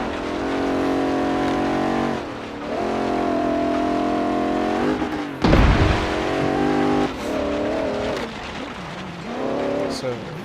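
A 1972 Mercedes-Benz 300 SEL engine in Forza Horizon 3 drones loudly through sustained revs on an uphill climb, with pitch shifts between gears, a brief thump and noisy burst midway, and talk running over it.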